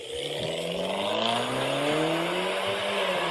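A rear-wheel-drive hatchback with modified exhaust revs hard, its engine note rising and falling continuously with a raspy exhaust edge, loud and close throughout.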